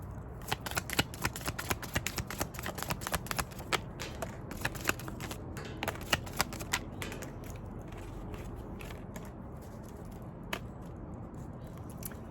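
Tarot and oracle cards shuffled by hand in a steady run of crisp riffling flicks and soft slaps, close and fairly quiet, thinning out toward the end with no talking.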